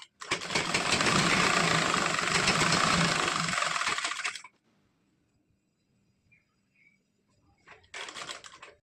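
Sewing machine stitching a four-tuck blouse, running loud and continuous for about four seconds, then stopping into near silence before a short second burst of stitching.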